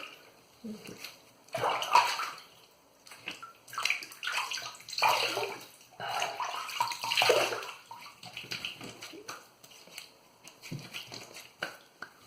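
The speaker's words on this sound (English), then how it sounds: "Let me wash up." Running tap water splashes in uneven bursts as someone washes up at a sink after a wet shave, the sloshing close and fairly quiet, with brief pauses between splashes and no clear talking.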